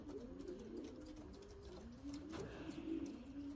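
Racing pigeons returned from a training flight coo close by in a soft, repeated rolling call that runs steadily through the moment.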